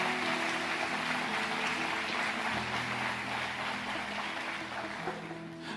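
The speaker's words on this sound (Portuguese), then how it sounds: "Forte aplauso a Jesus. Mais forte para Jesus." Congregation at an evangelical church service applauding loudly and steadily, a dense continuous roar of clapping close around with a low hum underneath.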